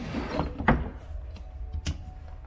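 A gas-spring storage box lid on a Husky R8 boat moves through a few soft knocks and thuds, ending in a sharper click as it settles, close-up over low background rumble.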